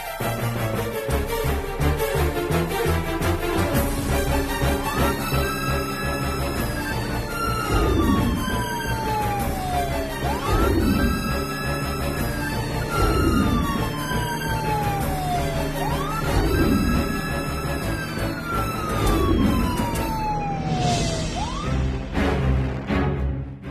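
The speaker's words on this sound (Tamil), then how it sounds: "ஏன் நம்ம ஆபீஸ்க்கு வெளியே ஆம்புலன்ஸ் போகுது?" An ambulance siren passes outside an office, its wailing tone sweeping up and down in regular repeating cycles, loud and steady throughout before cutting off near the end.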